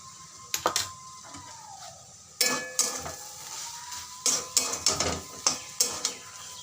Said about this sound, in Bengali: ঘিটা মিশিয়ে নেব।